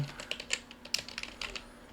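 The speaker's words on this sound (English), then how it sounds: "I can go back to my document over here, do some typing" Quick, irregular clicking keystrokes on a computer keyboard at a Lenovo ThinkCentre M800 desktop, close and fairly quiet, with no talking.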